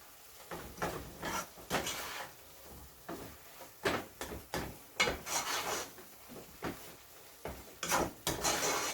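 Thick coconut sugar cake mixture being stirred and pressed in a pot over lowered heat, a steady series of soft scraping, rubbing strokes in an irregular rhythm, close and fairly quiet.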